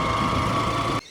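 A bus engine rumbles steadily up close with a low, even drone, then cuts off abruptly near the end.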